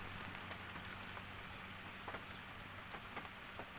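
Steady rain falling outdoors around a Kobelco SK200 excavator stuck in mud in Surin province, Thailand, a continuous soft hiss with scattered faint drops and a low background hum.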